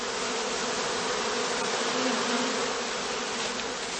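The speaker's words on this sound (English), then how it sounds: "They collect to form a swarm cluster of increasing size." A swarm of honeybees clustering together during swarming, later shaken into a straw catching skep, gives a steady dense buzzing hum that stays at an even level throughout.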